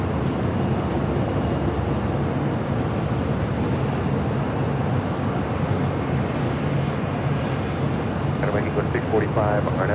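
A United Dreamliner airliner begins taxiing at LAX, making a constant, heavy jet rumble and whine at some distance, with a brief voice near the end.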